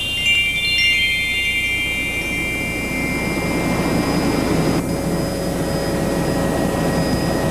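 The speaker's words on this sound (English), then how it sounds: "The sound of the helicopter engine is loud" Tour helicopter flying over Kauai, Hawaii, a loud steady engine and rotor drone with high whining tones, continuous and close-up throughout.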